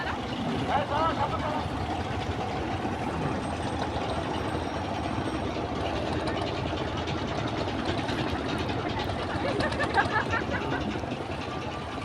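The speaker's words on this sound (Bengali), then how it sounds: "এখানে সুন্দরবন ঘোরানোর জন্য অনেক অনেক ট্রলার, ছোট ছোট ট্রলার আছে" A continuous chugging drone of small motor trawler boats on the river at the Mongla ferry crossing, fairly close and steady, with indistinct voices mixed in the background.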